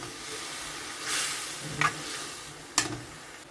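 Mushrooms sizzling in a pan while cooking for a creamy pasta with cheese, a soft steady hiss with a couple of brief louder crackling bursts, fairly quiet and with no talking.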